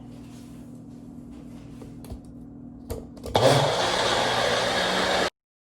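After some quiet clatter, a blender whirs loudly and steadily for about two seconds, then cuts off abruptly.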